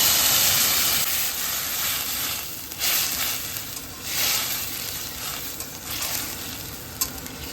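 Boiled spinach tipped into a hot pan of oil, a loud continuous sizzle and hiss with bursts of stirring and scraping that rise and fall throughout.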